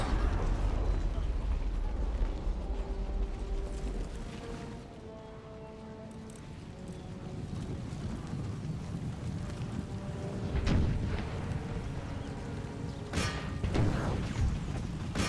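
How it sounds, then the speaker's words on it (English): Artillery guns firing in the video game Empire: Total War during a Maratha Confederacy battle in India, heard as a few sharp booms around ten and thirteen seconds over a constant low rumble of battle ambience and music. "2 more guns to fire."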